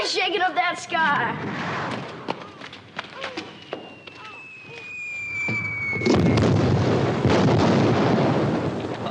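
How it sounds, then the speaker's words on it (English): Rain-making rockets fire in rapid cracking bursts followed by whistling streaks and a heavier booming rush, close and loud, with scattered thuds and movement in between. "That ain't thunder, that's cannon fire."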